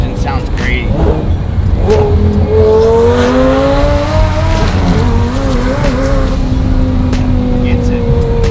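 A twin-turbo Lamborghini Gallardo's 5.0 engine revs loudly, its pitch rising and falling through several strong pulls, close by and harsh.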